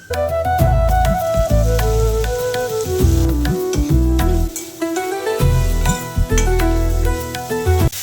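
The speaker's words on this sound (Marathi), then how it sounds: "आपल्याला आहे ना छान फ्राय करून घ्यायचे हे मशरूम" Mushrooms frying in a pan with garlic that has already turned golden brown, a loud, steady sizzle and crackle with stirring scrapes and background music, no voices.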